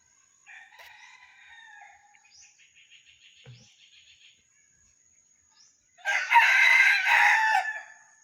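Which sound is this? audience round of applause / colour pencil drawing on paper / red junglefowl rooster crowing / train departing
red junglefowl rooster crowing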